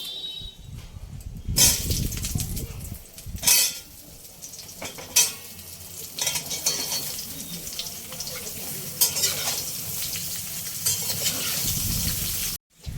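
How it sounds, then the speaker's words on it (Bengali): Raw mango pieces fry in oil for a sweet Bengali gur aam pickle, with a low sizzle broken by scraping, clattering stirs of a spoon against the pan. "আমগুলো তেলের উপরে দিয়ে ভালো করে ভেজে নিতে হবে"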